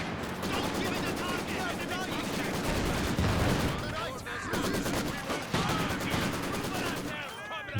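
PTRS anti-tank rifles firing in a Company of Heroes 2 battle, with dense overlapping bursts of gunfire and sharp cracks across a busy, loud wartime soundscape, voices mixed in among the shots.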